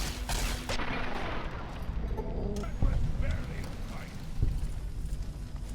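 Gunfire in the video game Fallout 3: a dense, steady barrage of shots and impacts that runs through the whole clip, with a couple of heavier bangs standing out partway through.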